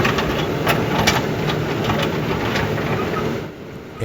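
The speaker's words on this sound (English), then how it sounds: "it's so impressive on just how well that backhoe can manipulate these large concrete chunks around" A backhoe working large concrete chunks, its engine running in a steady loud diesel drone with occasional knocks and clunks, easing off slightly near the end.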